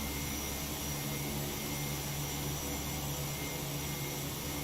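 Steady, droning engine roar of an old, noisy aircraft in the Prepar3D flight simulator on the Bundaberg to Rockhampton route, a constant broadband hum with tonal whine, unbroken and without talk.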